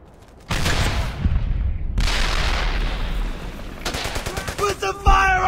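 Gunfire and blasts from the World War II shooter Brothers in Arms: Hell's Highway, with a loud burst opening into a sustained, echoing fusillade, then rapid machine-gun rattles and sharp shots near the end.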